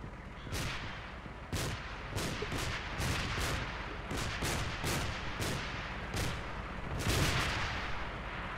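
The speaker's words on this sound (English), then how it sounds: "Getting shot at." Gunfire in a video game during an assault on a fire station base, with a dozen or so sharp, loud shots fired in an irregular, rapid rhythm over a steady background rumble.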